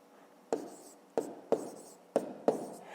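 A pen writes numbers for a school maths exercise, making five sharp, close scratching strokes at irregular intervals, each fading quickly, over a quiet background.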